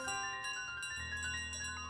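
A bell rings in Untitled Goose Game, with sustained metallic tones and layered overtones over game music, quiet and steady for under two seconds.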